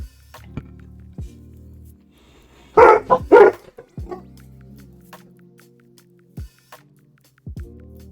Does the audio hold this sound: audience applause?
no